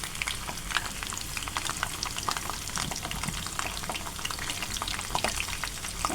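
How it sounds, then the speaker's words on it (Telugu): Curry leaves fry in hot oil for a dabbakaya pachadi tempering, a continuous close crackling sizzle with scattered pops and a faint stirring texture, with no voices. "కొద్దిగా కరివేపాకు వేసుకుందామండి."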